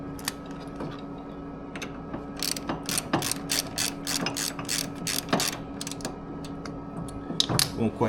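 A hand ratchet clicks in quick, uneven bursts while tightening bolts on the passenger floorboards of a 2024 Harley-Davidson Road Glide, close and crisp over a low steady hum.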